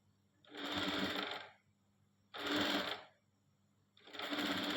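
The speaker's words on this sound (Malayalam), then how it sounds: "ഒരു മടക്കിലേക്ക് ഞങ്ങൾ സ്റ്റിച്ച് ചെയ്ത് കൊടുക്കണം." A sewing machine stitches along a fold of fabric in three steady bursts of rapid needle chatter, each lasting about a second, with quiet pauses between them and no talking.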